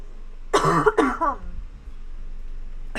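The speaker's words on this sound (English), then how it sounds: "I've got a nasty cough today." A person with a nasty cough lets out two harsh, voiced coughing bursts close by, followed by near silence and a brief click at the end.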